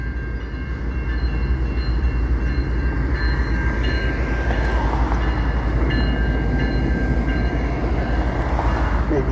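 Train passing close by, a loud continuous rumble of rolling rail cars with steady wheel noise and faint squealing tones, heard from trackside during a walk.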